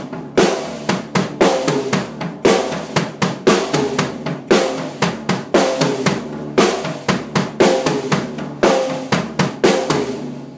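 A drum kit plays a repeating pattern on the floor tom, snare and high tom, with loud, close, evenly spaced hits grouped into a steady cycle that repeats throughout, with no talking.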